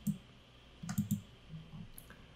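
Quiet computer mouse clicks at a desk, a few soft ticks in a small cluster over faint background hum.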